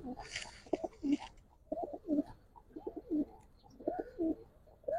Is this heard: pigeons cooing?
yes